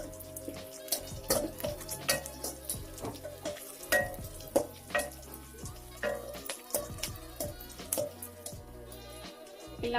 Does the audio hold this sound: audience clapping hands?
no